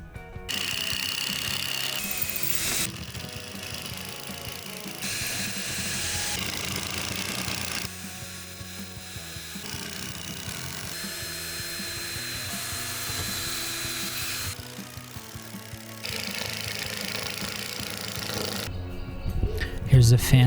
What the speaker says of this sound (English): We'll be drilling and then screwing through this hardy board onto those pieces